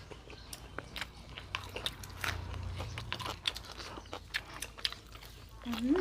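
Crunchy bites and chewing of fresh homegrown chili peppers during a rustic Isan countryside meal, repeated close crisp snaps over quiet background noise.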